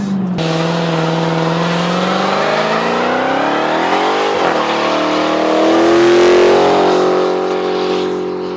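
Dodge Challenger Hellcat engine revs hard and accelerates, a loud, close, rising roar that swells, dips briefly at a gear change and climbs again.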